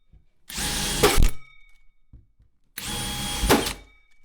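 A power drill bores through a kitchen cabinet during a basic kitchen install: two loud, close bursts of whining motor and bit grinding, separated by a short pause.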